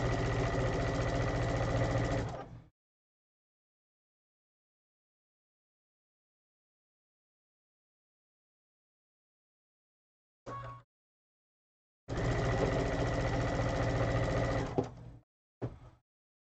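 A sewing machine runs straight stitching in two loud steady bursts of rapid mechanical whirring, separated by silence and a brief short run, close up with no talking.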